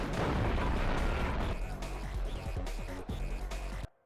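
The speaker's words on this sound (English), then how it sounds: "John McClane, firing the rocket launcher, dispensing with the peculiar red bulky man, gazes wistfully off to the side." Rocket launcher explosions from the Die Hard Trilogy 2 video game: a loud, booming blast that rolls into crackling debris and several sharp pops before cutting off abruptly.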